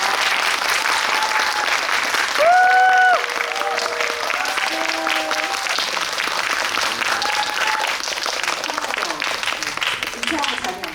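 Audience at a film screening applauding to welcome the director and actors, sustained clapping from a crowd with a host's voice over it.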